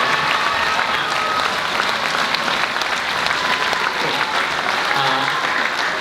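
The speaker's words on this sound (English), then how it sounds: "So let's give Mrs. Barco a round of applause." Sustained audience applause at a school orchestra concert, steady dense clapping filling the hall throughout at a fairly loud level.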